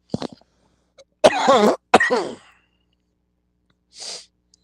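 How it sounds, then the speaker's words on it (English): A few harsh smoker's coughs burst out close up, separated by short pauses, followed by a softer breathy sound; no talking. "I'm only coughing because I don't got no vid or nothing."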